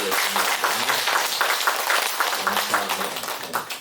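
A church congregation at a Sunday service applauding together, dense, steady clapping from many hands that holds for several seconds and begins to fade at the end.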